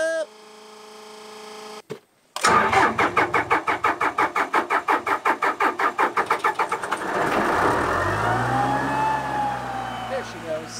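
A small gas-powered air compressor engine at a rammed earth wall build site cranks over in a rapid series of loud, close pulls, then catches and settles into a steady running roar.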